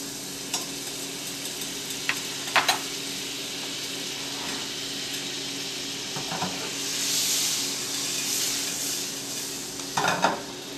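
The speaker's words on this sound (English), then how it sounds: "By using butter, you can tell that my pan is already nice and hot." Butter sizzles steadily in a hot pan ahead of snap peas being added, a continuous close frying hiss with a few brief clinks and stirring noises scattered through it.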